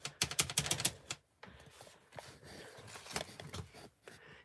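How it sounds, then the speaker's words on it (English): A fidget gadget not meant as a fidget toy clicks in quick, sharp bursts, densest in the first second, then keeps clicking sparsely and more faintly in a close, quiet room. "Sorry about the clicking noise."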